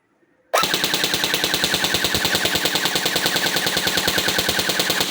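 An ARP9 V2 toy gel blaster fires after a quiet moment, first a single shot and then a sustained full-auto burst of rapid, evenly spaced, loud, close-up reports.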